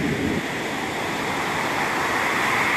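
Steady, loud roar of surf off the Vietnamese coast, broad and continuous like breaking waves washing in without pause, filling the whole stretch with no voices.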